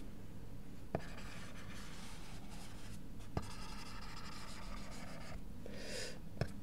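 Steady scratching strokes of writing on a board during a math lecture on partial differential equations, continuous and close, broken by a few sharp taps of the writing tool against the surface, with no talking.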